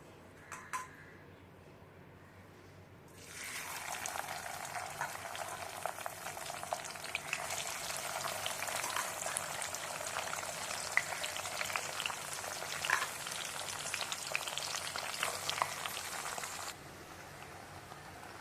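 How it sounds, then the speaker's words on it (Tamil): Prawns deep frying in refined oil for a prawn pickle, a steady, dense crackling sizzle that starts abruptly after a quiet moment, holds loud and even with spitting pops, then cuts off near the end. "இதில் இந்த ப்ரான்ஸ் வந்து ஃப்ரை பண்ணி எடுக்க போகிறேன், டீப் ஃப்ரை"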